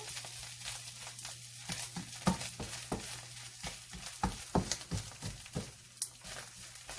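Corned beef hash browning in a pan, a soft continuous sizzle broken by frequent rhythmic scraping and stirring strokes, close and without talk.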